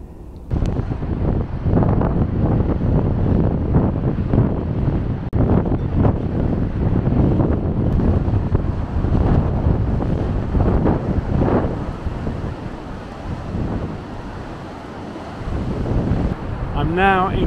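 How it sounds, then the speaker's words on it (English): Strong gusty wind at Cromer pier on the seafront buffets the microphone in a constant roar, with waves faintly underneath. "It's very windy here, very windy indeed."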